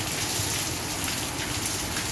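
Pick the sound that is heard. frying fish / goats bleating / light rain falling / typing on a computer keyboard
light rain falling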